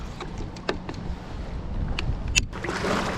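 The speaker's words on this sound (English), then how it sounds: "now the wind is back again" Wind blowing across a deep clear lake, heard from a paddle board as a continuous low rushing buffet with light splashes and a few knocks, close and steady.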